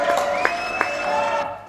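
Audience applause and cheering for comedian Émilie Ménard at a comedy show, a steady wash of clapping with a few sharp claps standing out and a sustained tone running underneath.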